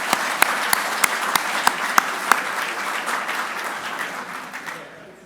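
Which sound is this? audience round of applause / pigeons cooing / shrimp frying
audience round of applause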